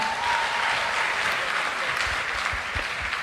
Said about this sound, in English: You can clap for them.